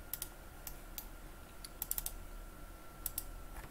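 Typing on a computer keyboard while entering survey point labels in AutoCAD, with scattered clicky keystrokes in small bursts, close and fairly quiet over a soft background hiss.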